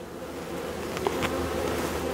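Steady dense buzzing of a honeybee colony inside a hive in December winter, a continuous close hum with a few individual bees briefly louder as they pass.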